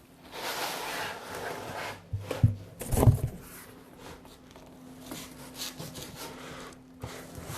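A cardboard shipping box is pulled upward off a Prática high-speed oven during unboxing. Close scraping and rubbing of cardboard comes in a couple of rough bursts, then settles into softer shuffling.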